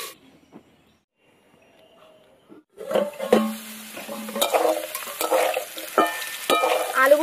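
After a near-silent start, potatoes fry and are stirred in a pan, with a bright sizzle and the scrape and clatter of a utensil against the metal, close up and growing busier toward the end.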